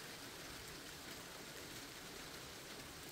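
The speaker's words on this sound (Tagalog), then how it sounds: "It's raining." Steady rain falls in a snowy Niigata setting, a dense even hiss that holds constant and fairly faint throughout with no voices.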